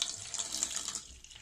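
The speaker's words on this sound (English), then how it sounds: "I want you to fill the bottle with water" Tap water pours into a bottle for a home rainbow science experiment, a brief close hiss of filling that tapers off near the end.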